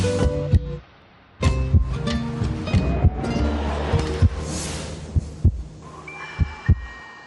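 A heartbeat sound effect throbs in slow, repeated low thumps, laid over a full swelling musical bed with no speech.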